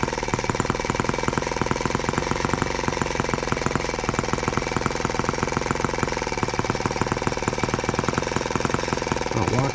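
Right after its first start, a brand-new TR1 tractor engine runs at close range, loud and steady, with a rapid, even chugging and knocking beat throughout.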